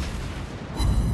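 A naval gun shell strikes an enemy ship in World of Warships Blitz, heard as a dull, heavy boom with a deep rumbling impact that swells toward the end.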